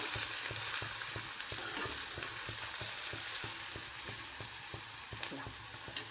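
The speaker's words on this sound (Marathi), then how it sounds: "कांदा छान तेलात घ्यायचा तळून 2-3 मिनटं तरी." Onion frying in hot oil for a yellow pea curry, a continuous crackling sizzle broken by regular stirring scrapes, close and steady, with no one speaking.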